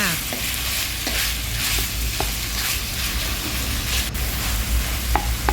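Minced pork being stir-fried in a pan sizzles steadily and loudly, with continuous scraping and stirring strokes close up and no talking.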